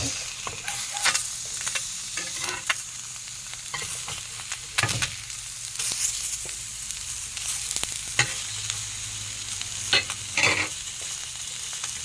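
Matambaka fish sizzles steadily on a grill, with a crackling, frying hiss throughout and a few sharper scraping knocks as the fish is turned, close up and with no voices.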